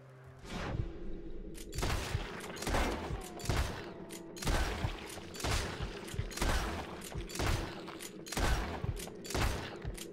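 Rapid volleys of gunfire from the video game Red Dead Redemption 2 during a final battle against Micah Bell, loud and continuous with bursts repeating roughly every second, layered over a busy game background.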